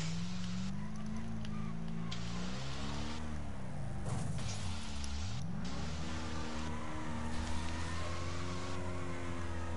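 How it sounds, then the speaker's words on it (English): Racing game car engines drone and rev with shifting pitches, several motors overlapping, with a brief whooshing pass in the middle. "you can hear the sounds the cars make."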